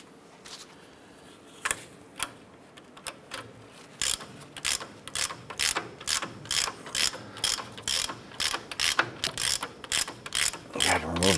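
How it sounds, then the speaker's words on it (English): A ratchet wrench loosens the nut on the lower ball joint of a 1994-2004 Chevrolet S10, making sharp clicking pawl strokes that start sparse and grow into a steady, fast, loud rhythm at close range. "get that nut off of the ball joint."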